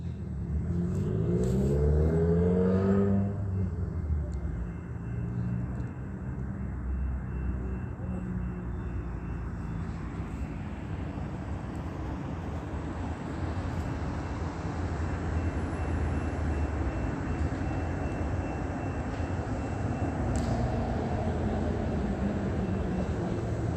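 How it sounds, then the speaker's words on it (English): A Metrolink commuter train passes at a distance as a long, steady low rumble that swells briefly early on and then holds at an even level. "Metrolink creates light activity, audible activity."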